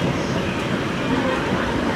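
A 1911 Southern Railway 2-8-2 steam locomotive, number 4501, hauls a train as a steady, dense rolling rumble and hiss with no distinct chuffs, loud and continuous throughout.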